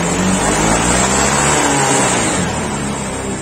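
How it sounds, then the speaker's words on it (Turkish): A Honda PCX scooter with a misfiring engine revs hard and loud up close, a sustained rising drone that falters near the end, with no talk over it. "Tekleme var. Motorda bir tekleme var."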